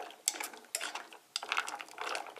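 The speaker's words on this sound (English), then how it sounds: "Stir it in a little." A spoon stirs shells and cheese with cream cheese and ham in a pot, giving several separate bursts of scraping and clinking, fairly close and soft.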